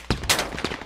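Gunfire in the military shooter game Squad: a few sharp, close shots in quick succession within under a second, each a hard broadband crack with short decay.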